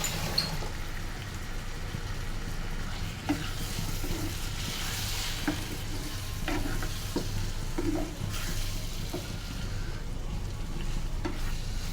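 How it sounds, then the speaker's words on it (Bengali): A pan of beef brain curry is stirred over a constant gentle sizzle, with soft scraping and knocking of the spoon against the pan now and then. "এখন এরে এখানে একটু নাড়ি দিও।"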